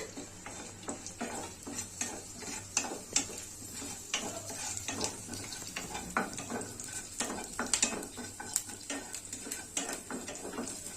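Spices crackle and sputter in hot oil for North Karnataka jolada mudde; scattered sharp pops burst irregularly over a faint sizzle, close by, with occasional clinks of a spoon against the pan.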